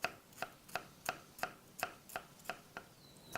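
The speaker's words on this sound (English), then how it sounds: "you want to just really kind of finely slice them" A knife finely slicing shallots on a cutting board, about ten crisp, evenly spaced taps in quick rhythm, close and clear, with no talk.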